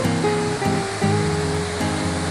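Shifen Waterfall in Taiwan roars as a steady, loud broadband rush of falling water, dense and continuous, with faint tonal hum and no clear voices.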